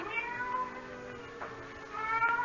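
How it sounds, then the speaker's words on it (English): A cat cries with a few drawn-out, plaintive meows, faint and distant, against a quiet background. "the faint crying of a cat"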